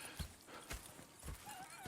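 Horse hooves clip-clop in the open-world western game Red Dead Redemption 2, a few faint, irregular thuds under a quiet ambient bed, with a brief whinny-like tone and no talking.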